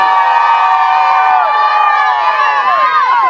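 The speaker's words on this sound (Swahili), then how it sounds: "Mpigeni makofi sana." A crowd at a CCM political rally in Njombe, Tanzania, keeps up a loud, dense wall of cheering, shouting and ululating voices for the whole stretch, close and continuous.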